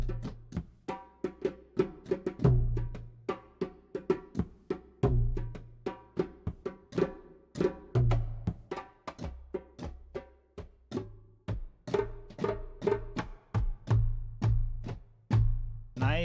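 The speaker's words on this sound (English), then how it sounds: "Nice bass in these percussion." Sampled percussion recorded from the far microphone position plays a steady rhythmic pattern of sharp hits, with deep booming bass strikes recurring every few beats, heard alone.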